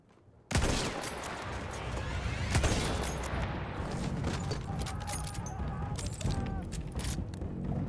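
Battlefield 1 gunfire bursts in suddenly and keeps going as sustained rapid shooting, loud and close, with sharper individual cracks standing out and faint talk beneath.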